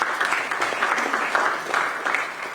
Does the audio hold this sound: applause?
yes